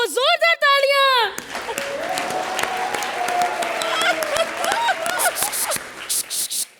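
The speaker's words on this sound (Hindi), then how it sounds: "जोरदार तालियां." A burst of applause from a comedy show audience follows a short vocal flourish, clapping and cheering rising and continuing loudly.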